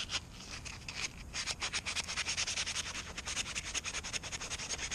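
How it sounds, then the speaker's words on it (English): Sandpaper rubs over a metal wastegate part from an external wastegate rebuild, with quick rhythmic back-and-forth scratching strokes that grow steadier and louder, close up with no talking. "or you took sandpaper, and you could hear it"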